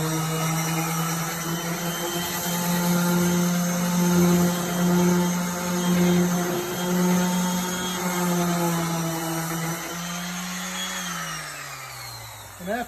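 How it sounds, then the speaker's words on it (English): A power tool sanding wood whines with a steady motor hum that rises and falls slightly, then winds down near the end. "Power tool, it's gonna be noisy."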